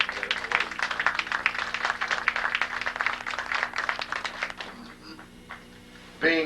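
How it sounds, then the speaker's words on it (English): An audience at a PTSD conference introduction applauds, a dense spread of many hands clapping steadily for several seconds before tapering off, with a voice over the top and a brief louder burst at the very end. "we owe a thank you and a round of applause to our Hootch group for putting this program together today"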